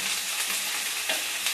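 Onion sautés to golden in a pan for ají pachamanquero, a brief close crackling sizzle with soft stirring scrapes and no voices.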